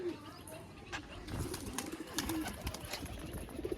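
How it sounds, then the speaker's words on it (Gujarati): Soft low cooing of pigeons, near and fairly faint, mixed with fluttering and scattered rustling noises. "આવી અહીં આપણા કબૂતર"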